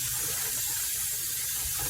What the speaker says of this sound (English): I'll wash it like 3 times just to make sure